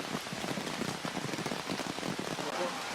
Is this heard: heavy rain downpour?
yes